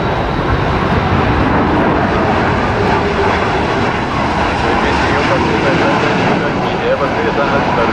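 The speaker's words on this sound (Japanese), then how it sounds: "日本航空の708便、機材はボーイングの 787-8 ドリームライナ" A Boeing 787-8 Dreamliner airliner arriving at Narita Airport, heard as a loud, steady broadband engine roar that holds throughout without a break.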